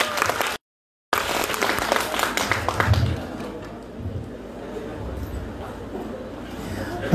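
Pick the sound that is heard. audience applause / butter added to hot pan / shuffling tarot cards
audience applause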